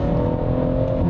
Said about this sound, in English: you hold the accelerator down